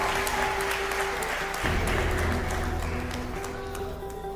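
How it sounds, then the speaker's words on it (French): Applause from an audience at a televised talent-show final with the First Lady present sounds as a steady wash of clapping in a large hall, moderately distant, with a low hum beneath. "Ça s'applaudit s'il vous plaît"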